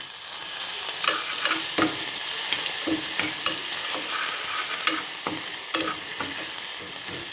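Steady oily sizzling as green chili and garlic thecha fries in hot tempering, with a spoon scraping and stirring the pan in frequent sharp clicks; no voices.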